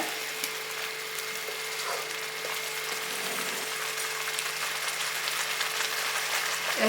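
Thick leafy-greens gravy bubbles and pops softly and continuously in a covered pot on low heat, with steady crackling over a faint electrical hum and no talking.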